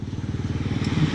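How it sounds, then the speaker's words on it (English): A Royal Enfield Interceptor 650 twin engine idles close up in a steady, even low thumping pulse, loud and with no talk over it. "it's a sweet sounding motorcycle"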